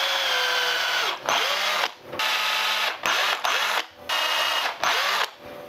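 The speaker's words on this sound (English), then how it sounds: "We just gotta drill holes and put those in." A power drill bores holes in a handmade countdown stickbait fishing lure to seat lead weights: several short whining bursts, close and fairly loud, separated by brief pauses.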